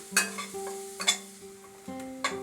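Chopped spring onion bulbs frying in a pan on a medium flame for chicken soup: a faint sizzle under a low hum, broken by a few sharp spatula knocks and scrapes against the pan.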